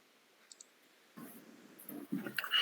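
Mouse and keyboard clicks on a computer, a couple of faint early taps followed by a busier run of clicks and keystrokes that grows louder toward the end, close and with no speech.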